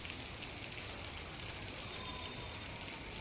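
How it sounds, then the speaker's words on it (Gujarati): Light rain falling steadily over Kodinar in Gir Somnath, a soft, even hiss of drops that stays constant and fairly quiet throughout, with no voices. "ધીમી ધારે વરસાદનું આગમન થયું।"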